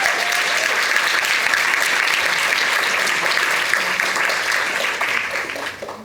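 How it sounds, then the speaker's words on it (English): Sustained applause from a conference audience for a panel discussion on abortion access in Illinois, dense, steady clapping that stays loud and fades slightly near the end. "Can we please give our panelists a round of applause?"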